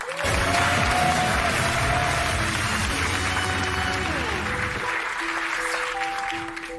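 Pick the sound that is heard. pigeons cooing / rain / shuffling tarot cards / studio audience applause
studio audience applause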